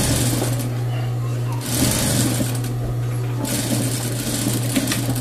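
A sewing machine runs steadily, stitching a bias tape seam on a garment with a continuous close-up motor whir and needle hum, briefly pausing once, while someone speaks Spanish over it.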